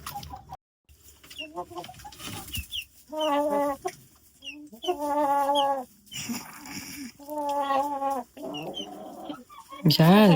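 Hens cluck and squawk in a coop in bursts, close and fairly loud, with short quiet gaps and a soft voice murmuring between them.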